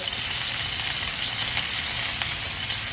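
Sliced garlic and a piece of bread frying in hot oil in a pan, giving a steady, close sizzle and crackle that runs unbroken throughout with no talking.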